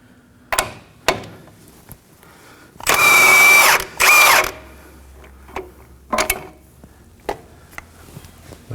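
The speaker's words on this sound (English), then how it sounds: "We're gonna remove the top one first, using a 17mm socket and an impact gun." Impact gun fitted with a 17mm socket, removing a sway bar link nut on a 2014-2020 Acura MDX: two loud, close, rattling bursts back to back, surrounded by scattered clinks of tools and metal.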